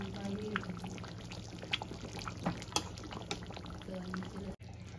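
Rohu fish curry with tomato and green chilli paste bubbling in a pot on the stove, a steady simmering hiss with scattered pops and drips, close and moderate, with a low background hum throughout.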